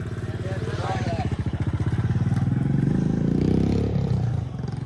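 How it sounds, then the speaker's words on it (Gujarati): A Honda Activa scooter's engine turns over and settles into a steady, close putter with a rhythmic throbbing pulse, lasting several seconds with no talk over it. "જો ગાઈસ હવે જવું ઘરમાં કા એક્ટિવા કરી દીધી ચાલુ"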